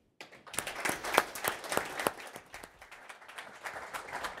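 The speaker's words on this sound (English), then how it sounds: "So I'd like you all to just give a warm welcome and round of applause to Mark Howe." Conference audience applauding a welcome for Mark Howe, starting abruptly with sharp, distinct claps that are loudest early on, then thinning into a lighter, irregular patter.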